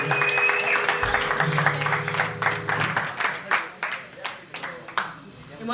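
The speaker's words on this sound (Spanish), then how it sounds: "Un aplaudiment per Toulouse perquè se'l mereixen" An audience at a punk-rock concert applauds with steady, close clapping over a sustained amplifier hum, while someone talks over the start.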